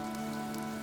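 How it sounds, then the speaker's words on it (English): Steady rain falls in the Fire Emblem: Three Houses video game, a dense, even hiss of drops that fills the short moment without any voices. "This rain threatens a coming storm."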